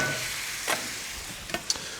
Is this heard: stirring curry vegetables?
yes